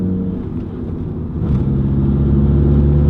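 A VW MK7 GTI fitted with a BFI Stage 4 clutch kit cruises along a highway, giving a steady, close, low engine and road rumble that swells slightly partway through, with no talking.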